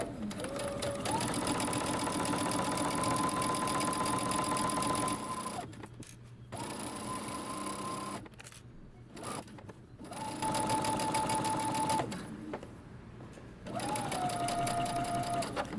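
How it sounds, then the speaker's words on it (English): Sewing machine stitching a pocket seam on a dress, running in several steady whirring bursts separated by short pauses, close and loud, with faint talk in the gaps. "Now I'm going to show you this on the sewing machine."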